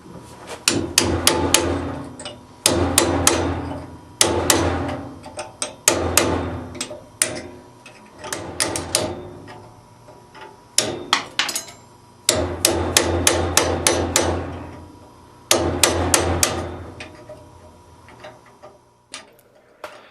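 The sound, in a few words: hammering cold chisel to cut steel hinge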